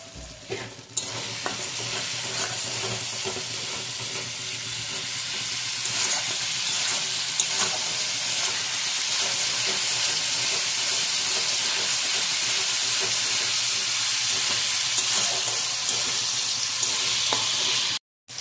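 Bombay duck fish frying in a pan, a loud, steady broadband sizzle and hiss that starts abruptly and holds for the whole stretch before cutting off, with no talk.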